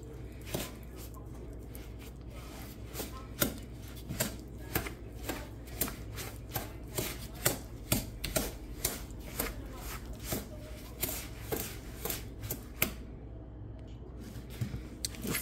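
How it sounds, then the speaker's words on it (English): A spoon stirring a thick mixture by hand in a bowl, giving repeated soft scraping strokes in an even rhythm, close and moderately quiet, with no voices. "I'm just going to do some hand work and some arm work and stir it together with the spoon"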